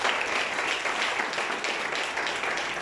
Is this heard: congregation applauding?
yes